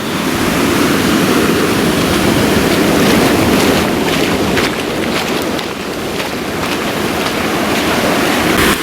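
Ocean waves on the Costa Rica coast roll and crash in a continuous loud roar of surf with wind buffeting the microphone, dipping briefly before surging again, with no voices.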